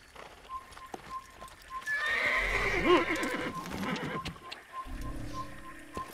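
A horse in the Assassin's Creed video game whinnies loudly in the middle of the clip, with clip-clop hooves and low game ambience before and after, and no voices.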